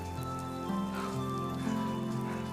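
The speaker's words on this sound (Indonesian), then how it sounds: "Bapak mendengar rintik hujan." Light rain falls with a soft, continuous patter at low volume beneath sustained musical tones.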